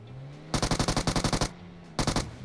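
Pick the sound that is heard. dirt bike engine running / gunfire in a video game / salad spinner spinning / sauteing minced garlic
gunfire in a video game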